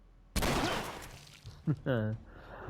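Gunfire in The Last of Us video game: a loud burst of shots cracks out near the start and rings off for about a second, then a short sharp report and a ringing, tonal hit follow.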